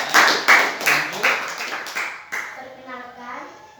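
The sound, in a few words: applause, group of children clapping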